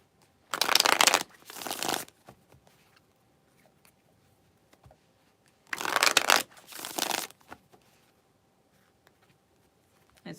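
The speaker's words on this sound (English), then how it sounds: "get a good shuffle on these." A deck of tarot cards gets two separate rounds of brisk shuffling, each a pair of loud, close riffling bursts, with near silence and faint ticks in between.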